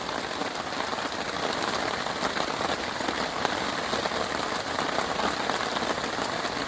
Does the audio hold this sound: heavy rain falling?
yes